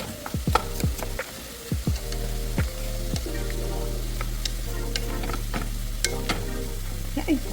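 Stir-fry vegetables sauté in a hot pan with a steady close sizzle, broken by repeated clanks and scrapes of a utensil stirring against the pan.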